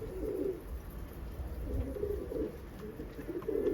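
Pigeons near a coop give low, soft cooing calls in short repeated bursts against a faint, steady outdoor background with no talk.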